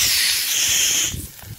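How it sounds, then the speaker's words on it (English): Vegetarian sausages and peppers sizzle in a camping pan on the Ayrshire coast, a steady bright hiss that runs loud and close for about a second before dropping off abruptly. "That's what you call real sizzling."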